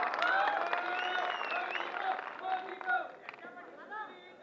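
An election rally crowd in Amravati claps and cheers loudly, a dense burst of applause that tapers off and then flares again in shorter bursts, with crowd chatter mixed in.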